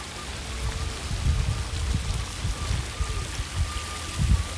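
Small fountains splash and trickle steadily at Tirta Gangga water palace in Bali, a close, continuous patter of falling water with soft bubbling, no voices.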